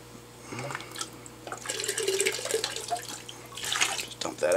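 Dirty water is poured out of an AquaClear aquarium filter into a sink, a close splashing and trickling that swells in the middle and tapers off in drips, with faint handling clatter.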